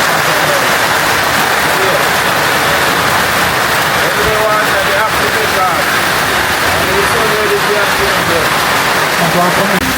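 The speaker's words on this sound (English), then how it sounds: "Guys, it's raining. It's raining." Steady rain falls by a river in Jamaica, a dense, even hiss of drops on surfaces that carries on without a break for the whole stretch, with faint voices talking underneath.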